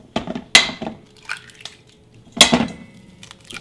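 Eggs for cornbread batter are beaten in a bowl, heard as a few sharp utensil clinks against the dish with quieter scraping between them, close and clear, with no talking.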